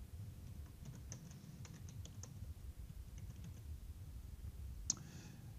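Fingers type on a computer keyboard in short bursts of light, close clicks with brief pauses, ending on one sharper key press, quiet and without speech.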